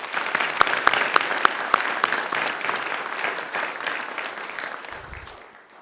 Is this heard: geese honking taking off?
no